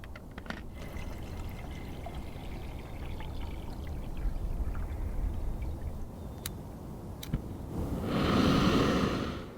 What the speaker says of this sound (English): We'll fill it with water to there.